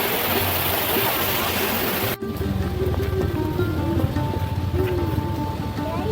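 A waterfall in the hills on the route from Siliguri to Gangtok, viewed from a distance: a continuous loud roaring rush of water that drops sharply after two seconds to a softer steady wash, with no talk.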